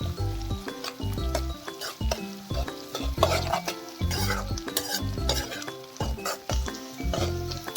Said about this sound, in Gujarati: ડુંગળીને ગોલ્ડન બ્રાઉન કલરની થાય અને એકદમ ક્રિસ્પી ત્યાં સુધી આપણે શેકી લઈશું